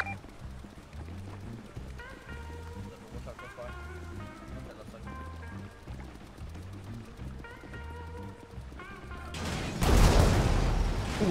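A loud explosion in the video game GTA 5 bursts near the end as a sudden broadband blast, after a stretch of rhythmic in-game sound with people talking underneath.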